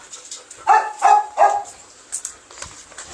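A small, short-statured foreign-breed dog at a dog farm in Indori, Maval near Pune gives three sharp, close barks in quick succession, followed by softer scattered yips.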